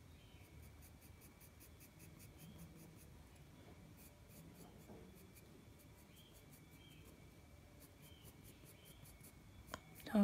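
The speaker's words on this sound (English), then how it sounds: "Next, I'm gonna go to my 4B pencil, which is the next darker shade." A 4B graphite pencil shades across paper while drawing a nose, giving a soft, steady scratchy rasp that runs continuously and close, quiet and alone, with a brief louder knock right at the end.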